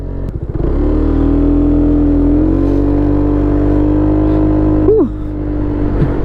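An Italjet Dragster 200 sports scooter launches hard, its engine rising into a loud sustained drone with a steady rising pitch, then backing off briefly near the end before pulling again.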